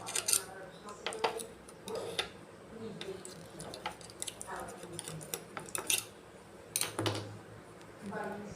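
A knife runs around the edges of a mould of set mango jelly, making close, intermittent scrapes and light metallic taps and clicks.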